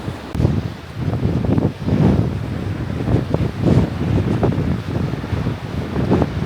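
Wind buffets the microphone while cycling along a beach in Denmark, a loud, uneven rushing roar with gusting surges, and surf washing faintly beneath it, with no speech.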